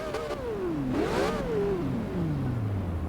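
A McLaren P1's turbocharged V8 in Forza Horizon 2 climbs, then winds down steadily in pitch, with a brief burst of roar in the middle; no voices.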